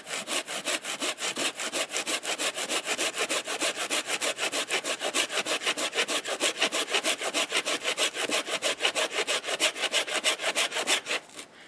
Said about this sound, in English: I'm going to zoom in and just show you how each one cuts into a downed tree. So this here's the Laplander.